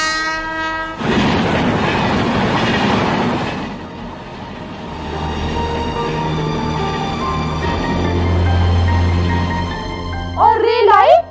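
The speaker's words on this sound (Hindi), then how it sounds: "और रेल आई" Cartoon-style sound effect of a train passing on railway tracks: a horn blast, then a loud rumbling clatter of wheels that fades into a low steady roar, ending in a brief warbling tone.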